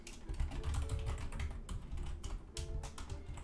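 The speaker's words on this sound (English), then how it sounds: "when I'm typing on the keyboard" Rapid typing on a computer keyboard while programming, with fast, uneven clacking keystrokes heard up close and a couple of brief pauses, steady and moderately loud.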